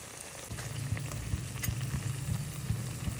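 Potato wedges fry in hot oil with a steady, close sizzle that swells after the first half second, broken by soft bubbling pops and occasional light clicks.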